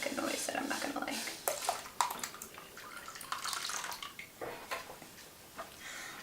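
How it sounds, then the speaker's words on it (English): Hot brine for a Thanksgiving turkey poured into a container already holding cold water, a splashing, gurgling stream with a few sharp clatters, while someone talks over it. "Now we're going to pour the hot brine in there."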